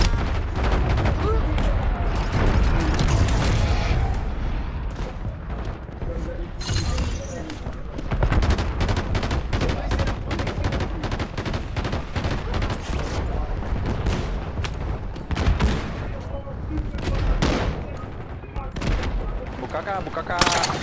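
Dense video game gunfire in a tactical squad shooter, rapid automatic bursts and single shots crackling continuously throughout, with booming impacts and voices talking over the din.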